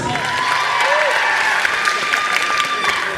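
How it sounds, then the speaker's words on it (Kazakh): Steady, loud applause from a concert audience fills the whole stretch, with a crowd murmur and a few whoops mixed into the clapping. "Aziz достар, қол шапалақтап қолдап қалдырып тұрамыз"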